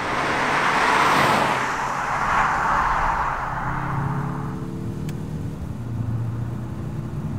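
A 2021 Mazda 3 turbo driving, a broad road and engine roar that swells and eases, then settles into a lower, steadier engine hum with rising tonal drone as speed builds; no talking.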